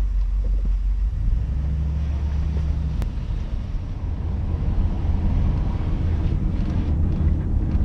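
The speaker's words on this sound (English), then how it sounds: "It definitely has a little lope to it. Quiet, heavily muffled." Low, steady rumble of a Pontiac Grand Prix GXP's LS V8 idling through heavily muffled aftermarket exhaust, quiet with a slight lope, continuous throughout without talk.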